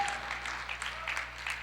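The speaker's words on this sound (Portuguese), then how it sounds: "Uma salva de palmas para esses dois jovens lindos aqui" An audience in a church sermon gives a round of applause for two young people: soft, fairly distant clapping that holds steady for a moment at low volume.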